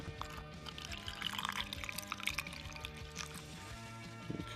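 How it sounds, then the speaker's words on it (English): Water is poured from a container into an ice tray, a light, continuous trickle and splash with small drips, close by and quiet, with no talk over it. "now that we've got it positioned in the tray, we're gonna pour our water in"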